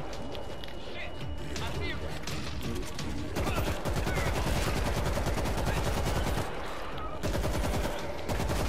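Rapid bursts of gunfire in the World War Z video game, dense and continuous with a heavier, louder stretch in the middle, mixed with shouting voices.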